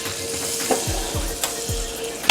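Chocolate bread dipped in egg mixture sizzles in melted butter on a skillet, a steady close frying hiss with a few soft clicks and scrapes.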